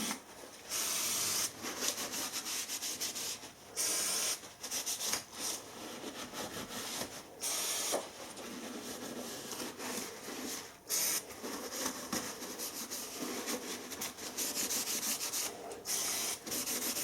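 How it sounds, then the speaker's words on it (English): Cloth or pad rubbing oil off a lathe gearbox casing, a steady scrubbing and wiping sound in repeated strokes with short pauses, close up and moderately quiet, with no talking. "Try and make sure you get as much of the oil off as possible."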